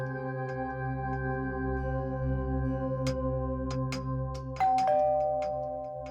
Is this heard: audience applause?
no